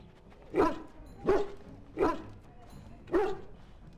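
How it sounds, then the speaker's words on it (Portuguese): A dog in the video game Dragon Age: Origins barks four times at a steady pace, each sharp, close bark separated by brief quiet gaps, with no one talking. "O cachorro vai me atacar, pô?"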